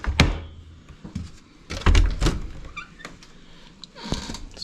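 Wooden swell box doors on a 1933 Moller pipe organ in St. Louis, opened by hand to give two or three close, hollow thunks and knocks with some creaking and shuffling between them. No one talks.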